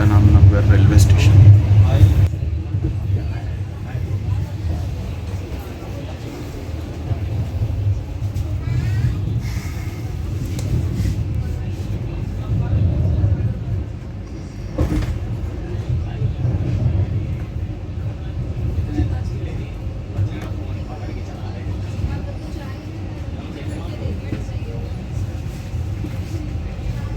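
A passenger train rides toward Sant Hirdaram Nagar railway station on the Dr Ambedkar Nagar to Vidisha route, giving a steady low rumble with faint rattles throughout and a brief sharp knock partway through.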